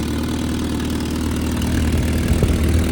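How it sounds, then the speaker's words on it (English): A car engine with an exhaust leak idles loudly and steadily, with a rough, puttering low rumble that grows slightly stronger near the end. "Still has a little bit of an exhaust leak"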